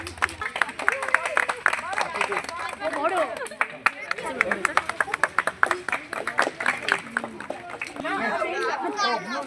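An audience applauding at a community health check-up camp where educational materials are handed out: rapid, uneven bursts of many hands clapping, close and fairly loud, over children's voices and crowd chatter, easing and then picking up again near the end.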